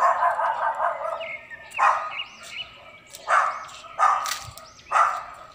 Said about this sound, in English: there's a lot of doggy doggy. The dog is tied.